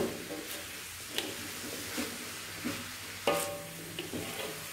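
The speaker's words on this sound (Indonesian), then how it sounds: "Sekarang kita masukkan daging kerbau yang sudah dicacah tadi atau dicincang tadi. Kita aduk-aduk sampai semua bahannya tercampur." Chopped buffalo meat for Batak saksang is stirred in a pan. A steady low sizzle runs throughout, and a spatula scrapes and knocks on the pan every second or so, close up, with no voices.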